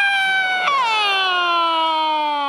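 A human voice imitates a fire engine siren in a comic crosstalk performance, a single sustained tonal wail that jumps and then slides steadily downward.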